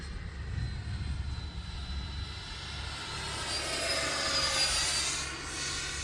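Freewing F-15 90mm electric ducted fan RC jet flying slowly past, a steady whining whoosh that swells louder as it nears and then fades slightly, heard outdoors over a low background rumble with no speech.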